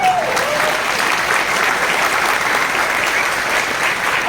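Audience applause from a crowded hall at a business seminar, a dense, steady wash of many hands clapping that holds at an even, loud level throughout with no speech over it.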